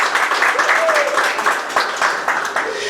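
A church congregation claps in praise during a sermon, a warm wash of applause with scattered sharper hand strikes and a voice mingling through the middle.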